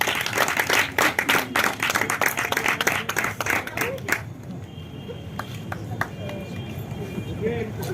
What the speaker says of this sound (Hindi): विशाल जी के लिए जोरदार तालियां